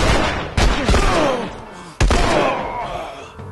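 Gunshots in The Last of Us, two heavy, sharp blasts spaced well apart, each ringing off with a decaying tail over quieter game ambience.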